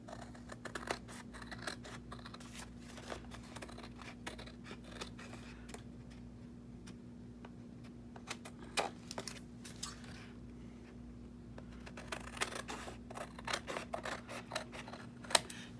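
Scissors snip through paper while a simple box is made into a folio, giving a quiet, irregular run of close, crisp cuts and rustles over a steady low hum.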